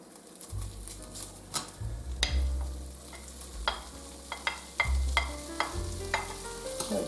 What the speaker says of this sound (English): The skillet is on medium high, and I will cook bacon until it's crisp